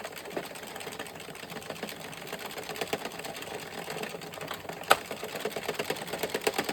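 An Addi or Sentro circular knitting machine is cranked through rows of a striped beanie, a fast steady rattling clatter of needles close by, continuous with one sharper click partway and no talk.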